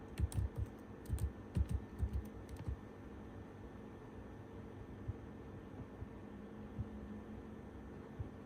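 Keyboard typing on a computer while entering a database transaction routine: quick clusters of soft key clicks during the first few seconds, then only a faint, steady room hum with no talking.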